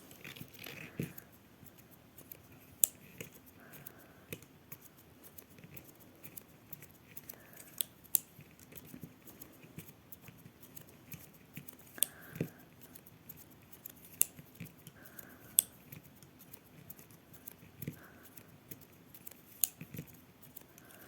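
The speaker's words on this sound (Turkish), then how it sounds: "alt ipimi de çekiyorum ve turuncu ipimi artık koparacağım" Scissors snip through orange knitting yarn during hand knitting, giving faint, sparse clicks and small cuts spread over a quiet stretch.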